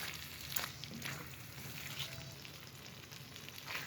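Creamy chicken makhni handi simmers in a pan, a soft, even bubbling sizzle heard close up, with a faint low hum beneath and occasional small pops.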